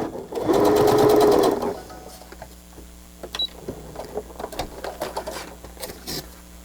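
A sewing machine stitches fabric pocket pieces in one loud, rapid, close burst of about a second, followed by quieter handling and small clicks.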